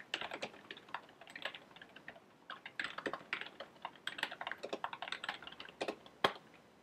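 Steady, uneven typing of code on a computer keyboard, quiet close key clicks and occasional louder strikes running for several seconds with no talking.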